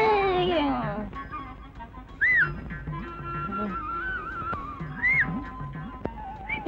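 A man whistles in a Tamil comedy film scene, giving two short, rising whistled notes a few seconds apart over background sound.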